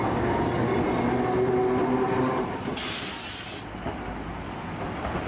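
Tram ride in Matsuyama, Ehime: a steady rumbling rail-car interior with hissing and rolling noise throughout, fairly loud, a brief bright burst of hiss midway, no talking.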